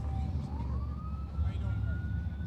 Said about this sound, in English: we get the sirens